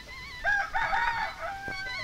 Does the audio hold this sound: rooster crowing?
yes